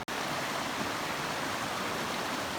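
Stream water rushing steadily over limestone rocks, a dense continuous wash heard up close, loud and unbroken throughout.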